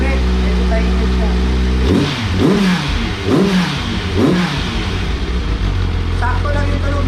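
A motorcycle engine idles, then revs several times in quick bursts through the exhaust before settling back to a low idle, with people talking over it.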